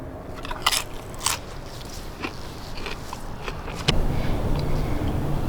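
A tortilla chip loaded with smoked queso dip with chorizo, tomato and jalapeno gets a few crisp, close crunching bites, followed by steady chewing with no talk.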